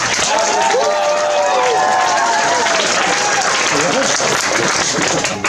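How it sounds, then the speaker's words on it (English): Wedding guests give the couple a loud, sustained round of applause and cheers, dense clapping filling the room with a few voices calling out over it. "Let's give them a big round of applause again."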